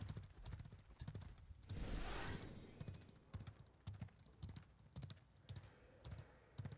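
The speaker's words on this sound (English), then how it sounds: "just getting on her horse now" Horse hooves clip-clopping in the online game AoC as a character mounts up, a quick, even run of sharp close hoofbeats, broken by a louder rushing swell partway through.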